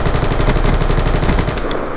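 Loud, close automatic gunfire in the shooter video game Black Ops 2, a continuous rapid stream of shots for about two seconds that stops abruptly near the end.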